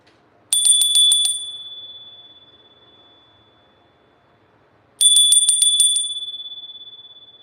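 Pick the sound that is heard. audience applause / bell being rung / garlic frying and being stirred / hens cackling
bell being rung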